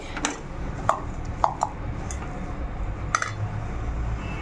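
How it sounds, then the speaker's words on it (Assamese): Boiled potatoes being mashed in a wok for aloo paratha filling, with scattered sharp metallic clinks and taps of a utensil against the pan over a low, steady background, no voices. "কেৰাহীতে খচি ল'লোঁ"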